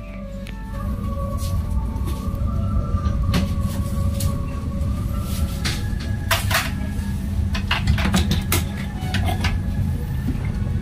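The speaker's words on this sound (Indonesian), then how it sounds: "kereta kembali diberangkatkan dari stasiun Cimahi menuju ke stasiun Bandung" A train rumbles steadily as it departs Cimahi station toward Bandung, with repeated metallic clanks and squeals from the wheels and carriages over a low, continuous drone.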